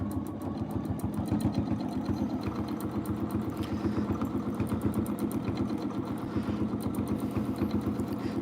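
A sewing machine stitching a quilt, its needle hammering in a fast, steady mechanical rhythm close by, with a continuous motor hum under the rapid ticking throughout.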